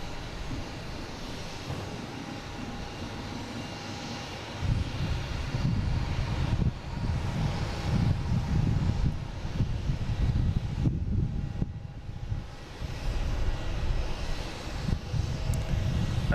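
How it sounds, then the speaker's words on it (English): Airbus A330 airliner engines at Boston Logan Airport, a sustained deep roar that swells louder partway through and holds steady, heard from a distance outdoors with wind buffeting the microphone. "A330 heading to Barcelona."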